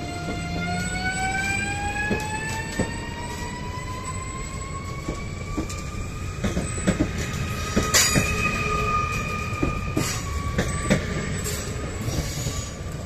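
A train pulls out of Riga station on the line to Jūrmala Majori, its wheels squealing in long rising and falling tones over a steady rolling rumble, with a few sharper clanks. No one speaks.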